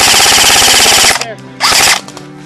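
Airsoft guns fire in rapid automatic bursts at an outdoor Lord of the Rings themed airsoft and larp game, a long loud rattling volley followed by a second short burst, with brief pauses between.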